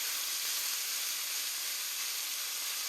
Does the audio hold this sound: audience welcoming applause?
no